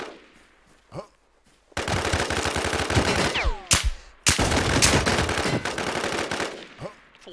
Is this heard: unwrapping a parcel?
no